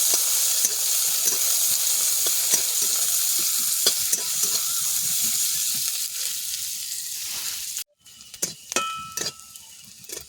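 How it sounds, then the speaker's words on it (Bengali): Onions sizzling and frying in a pan for a Bengali village-style drumstick greens dish, with steady broadband hiss and intermittent stirring scrapes, dropping briefly near the end before resuming more faintly. "পেঁয়াজগুলোকে একটু ভেজে নেব।"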